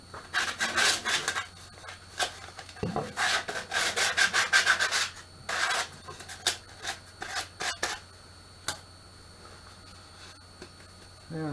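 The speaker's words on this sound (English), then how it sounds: "Just needs a little bit of sanding in there to get rid of the fuzzies" Sandpaper rubs briskly back and forth inside a lidded oak staved box, quick raspy strokes in close bursts, stopping and restarting a few times with a short pause and soft handling noises between.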